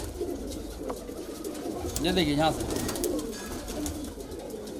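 Kalpare high flyer pigeons coo in a loft in Patna city, one short, clear cooing phrase rising midway through amid a murmur of other birds, while someone talks over them.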